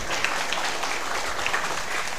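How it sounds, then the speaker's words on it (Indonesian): An audience at a Quran study gathering claps in a brief, steady burst, a close, even wash of hands lasting about two seconds. "Tepuk tangan toh."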